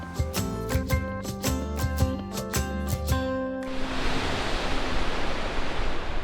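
Sea waves on the Paso-ri coastal trekking trail in Yangnam-myeon, Gyeongju, heard as a steady broadband wash of surf that takes over after a stretch of rhythmic music.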